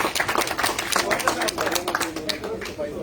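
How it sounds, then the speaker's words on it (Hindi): A crowd applauds at a political party headquarters event, a dense patter of clapping from many hands over a few seconds, mixed with voices in the room. "तालियों के साथ"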